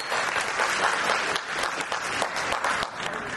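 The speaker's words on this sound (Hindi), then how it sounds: "जोरदार तालियां हो जाएंगी" Audience applause at a scholarship program seminar, a steady dense wash of many hands clapping together, fairly loud and continuous throughout.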